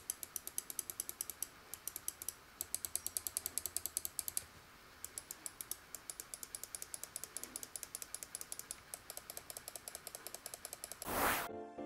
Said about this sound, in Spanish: la durabilidad de los botones principales, 60 millones de clics. Los escuchamos.